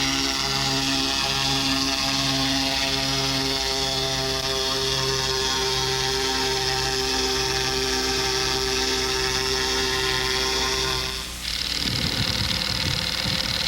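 Small powered ultralight aircraft engine in flight with the pilot hanging from the armpits, a loud continuous buzzing drone with a pulsing rhythm, close and steady, shifting abruptly to a rougher, lower tone near the end.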